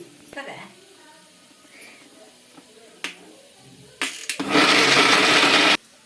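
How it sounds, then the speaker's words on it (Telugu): A mixer grinder whirs loudly for about two seconds near the end, grinding a jaggery mixture smooth, after some clicks, knocks and quiet kitchen sounds. "ఇంకా బెల్లం వేసేసి స్మూత్గా గ్రైండ్ చేసుకోవాలి"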